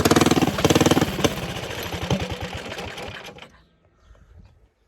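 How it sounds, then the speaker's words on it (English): A 270cc stage 2 go kart engine runs close by with a loud, rapid chattering putter that drops off and cuts out after about three and a half seconds, leaving faint sounds. "She starts. She starts."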